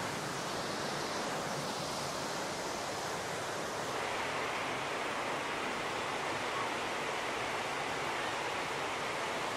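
Steady, full-bodied roar of a waterfall pouring down into a lake at an amusement park garden, a continuous broadband rush with no pauses, fairly close and even throughout.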